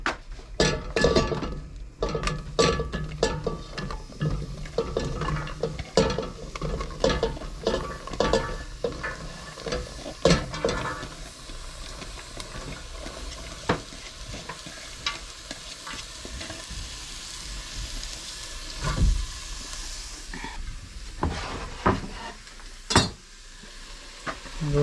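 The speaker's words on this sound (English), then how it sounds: "Now we're just gonna straight dump all these veggies in." Vegetables dumped into hot oil in a pan for a ground turkey dinner, giving a steady close sizzle broken by frequent stirring scrapes and clinks throughout.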